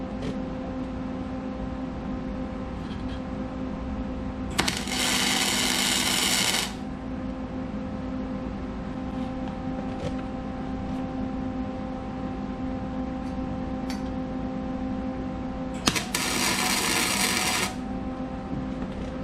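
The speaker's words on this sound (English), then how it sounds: "So for now I'm just going to tag weld it." Tack welding on a Mazda RX-7 in a garage, two bursts of harsh buzzing crackle about two seconds each, separated by a long stretch of quiet steady hum.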